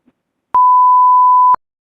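A single clean electronic tone from a phone call being dialed, one steady beep about a second long standing alone in silence.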